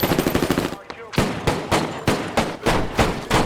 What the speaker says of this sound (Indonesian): Dari sana baku tembak pun kembali terjadi